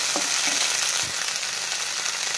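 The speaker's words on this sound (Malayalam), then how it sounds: "എടുത്തു വച്ചിരിക്കുന്ന ഗ്രീൻ പീസും കൂടെ ഇതിൻ്റെ കൂടെ ഒന്ന് ചേർത്ത് ഒന്ന് മിക്സ് ചെയ്തെടുക്കാം." Green peas, green chilli and ginger stirred into sautéed onions in a pan for a vegetable stew: a loud, continuous frying hiss up close, with a few low knocks from stirring.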